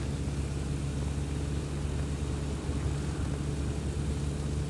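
Steady, droning engine of an A22LS Foxbat light aircraft in a flight simulator, a constant propeller hum with a strong low tone and broadband hiss, unchanging and alone.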